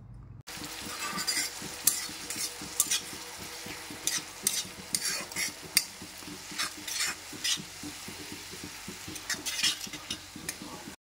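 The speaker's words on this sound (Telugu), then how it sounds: "మనం వేసిన ఉల్లిపాయ, పచ్చిమిర్చి పేస్ట్ అనేది ఆయిల్లో లైట్గా ఫ్రై అవ్వాలండి" Onion and green chilli paste frying in oil for a dhaba-style chicken liver curry, with a soft continuous sizzle broken by quick, rhythmic scrapes and taps of a spoon stirring against the pan, close up and alone.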